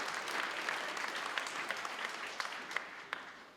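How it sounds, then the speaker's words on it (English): Applause at a civic and community awards evening for the committee members, a moderate, even patter of clapping with a few sharper individual claps standing out as it goes on. "can we have a massive round of applause for all the committee members taking part for this evening?"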